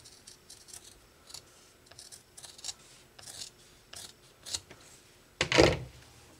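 Scissors trim cross stitch fabric close to its edge, making a series of short, crisp snips and rustles up close, ending in one louder, longer crunch.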